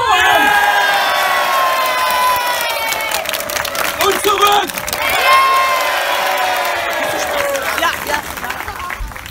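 Festival crowd in a park at a palace grounds cheering and whooping wildly, loud and sustained with scattered clapping, as an announcer speaks over it.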